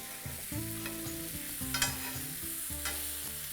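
Chicken tawa pulao stirred and fried on a flat tawa with ginger, giving a steady close sizzle with repeated scraping and clanking strokes of a spatula at an irregular rhythm.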